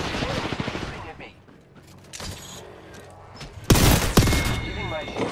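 Gunfire in the battle-royale shooter Apex Legends: rapid bursts and scattered shots, with a louder, close volley near the end, over in-game mechanical and ambient noise.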